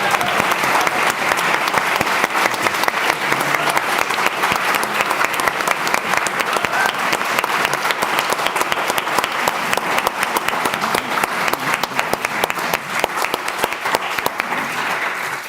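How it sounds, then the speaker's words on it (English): Sustained warm applause from an academic audience at a university anniversary event, dense clapping at steady, full loudness that carries on for the whole stretch without speech. "Please give them a warm hand of applause."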